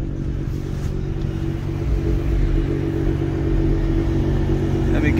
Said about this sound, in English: let's see if I can give it a few revs